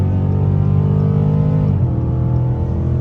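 A 2020 Dodge Charger 392 revving loud and close while driving through mud, its V8 roaring with a steady deep drone that drops in pitch partway through as the engine eases off.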